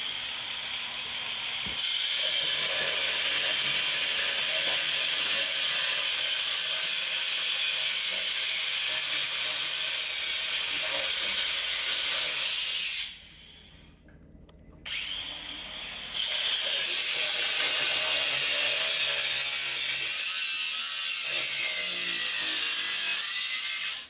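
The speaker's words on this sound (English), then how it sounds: "Bolt cut just started. She's gonna go now." A machine cutting through a bolt in a metalworking shop gives a steady, loud hissing grind that runs continuously, drops out briefly near the middle, then resumes at full strength until the end.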